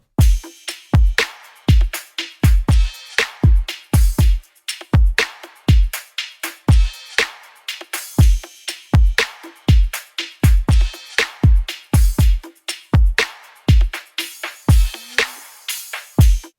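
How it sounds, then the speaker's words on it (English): Soloed drum groove in a smooth R&B style, with punchy deep kicks and crisp snares repeating in a steady loop for about sixteen seconds, loud and upfront with no voices. "The drums in this record sound like this,"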